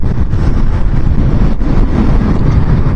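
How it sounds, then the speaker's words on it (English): Heavy wind buffets the microphone on a motorcycle ride on a very windy day in the UK, a loud, constant low roar with no break. "Very windy today though."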